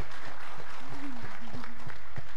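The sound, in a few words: applause for the children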